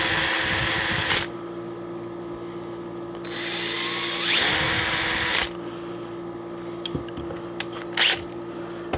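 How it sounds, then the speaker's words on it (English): Power drill spinning a Q-tip half dabbed with metal polish while refurbishing a 1991 Mastercraft riding mower; two loud bursts of whirring run about a second and two seconds, separated by a steady background hum. "So just cut a Q-tip in half and shove it in the drill."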